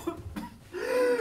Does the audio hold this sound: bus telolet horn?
no